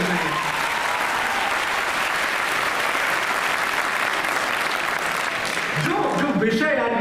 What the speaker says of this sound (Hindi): एक बार माँ हिंदी के लिए आप तालियां बजाएं